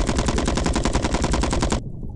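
Rapid automatic gunfire in the crab-themed battle royale game King of Crabs, a loud sustained burst of evenly spaced shots lasting under two seconds, then abrupt silence.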